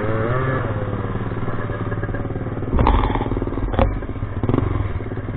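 A motorcycle engine runs steadily at close range in a Filipino setting, with a harmonic drone, a few brief sharper clatters and rev bursts rising over the idle.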